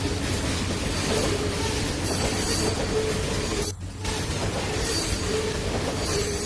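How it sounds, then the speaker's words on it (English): A diesel-led train hauling log and corn cars rolls on in Trainz 2019, with continuous rumbling wheels, faint squeals and clicks, and a brief dip midway. "We have some diesel up front here."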